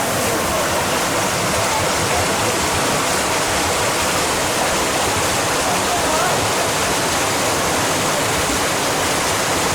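A loud, steady roar of falling water fills the scene without a break, dense and constant, as if standing near a waterfall.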